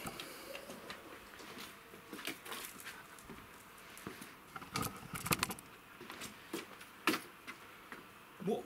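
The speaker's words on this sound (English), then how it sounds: "That noise is my dog" A large Rottweiler shifting about indoors, making scattered shuffling and scraping sounds with occasional sharper knocks and clicks at irregular intervals, close by but fairly quiet.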